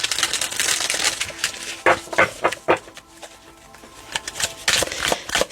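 Tarot cards shuffled and dealt one after another, a run of crisp papery riffles and snaps up close, with short quieter pauses between bursts and no talking.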